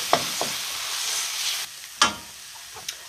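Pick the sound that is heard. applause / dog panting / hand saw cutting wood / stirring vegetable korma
stirring vegetable korma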